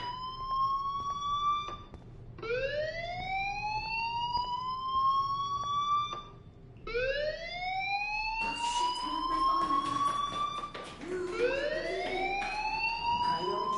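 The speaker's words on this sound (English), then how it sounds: "Hey, do you hear that fire alarm?" A fire alarm wails in the video game Life is Strange, with rising siren sweeps repeating every few seconds, loud and continuous, later joined by rapid pulsing tones.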